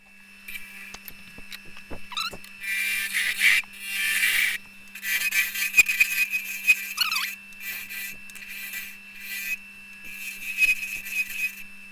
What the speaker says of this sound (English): So now that needs hollowing.